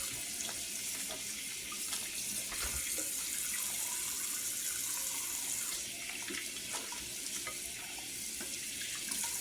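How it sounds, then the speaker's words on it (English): Cold tap water runs steadily into a sink over raw chicken being rinsed for Southern cornbread dressing, a continuous close splashing hiss with small shifts as the bird is turned under the stream. "I'm going to rinse it, cold water."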